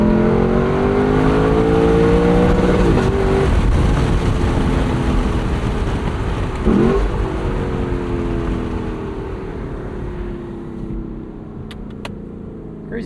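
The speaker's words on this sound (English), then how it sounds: "We'll do a bit of driving with the windows down, give you guys a taste of that." A 2024 Lexus LC 500 V8 convertible drives with the windows down and the wind deflector up, its engine droning loudly, a throttle rise and shift early on, then wind rush as the tone gradually eases and fades.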